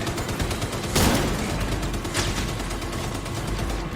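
Rapid automatic gunfire from a deployed turret in The Division 2 rattles on steadily, with a couple of sharper bursts standing out above the continuous firing.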